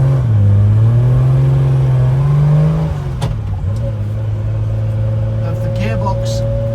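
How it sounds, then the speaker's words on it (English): Triumph Vitesse six-cylinder engine with overdrive gearbox, a droning exhaust note that rises and settles as the car is driven, loud and close with someone talking over it. "the 6-cylinder engine and its barky exhaust"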